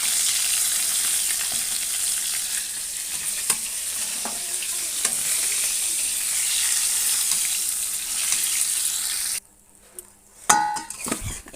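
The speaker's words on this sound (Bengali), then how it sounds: "চলো সব মাছগুলো ভেজে তারপর ফিরে আসছি।" Small fresh pond carp fry in a little oil with a loud, even sizzle and scattered utensil taps, until the hiss suddenly drops away near the end and gives way to pan and cutlery clatter.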